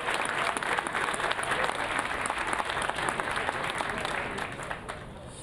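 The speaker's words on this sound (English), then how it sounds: "Round of applause." Warm, sustained applause from an audience at a Veterans Day ceremony, honoring women veterans, with dense clapping that fades slightly toward the end.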